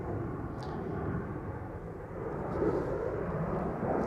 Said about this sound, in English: EasyJet A320neo to Milan is lining up on center, ready to go next.